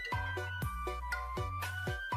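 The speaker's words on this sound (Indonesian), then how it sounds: "Oke, sebentar ya, ada telepon." A telephone rings with a repeating electronic ringtone, several bright bursts in a regular pattern, close and clear with no talking over it.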